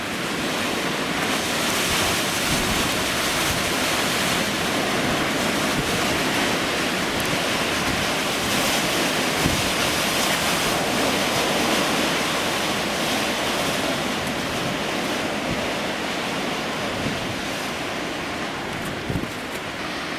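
High winds of over 100 km/h roar in a steady, dense rush around a Savonius horizontal axis wind turbine, buffeting the microphone constantly with no voices.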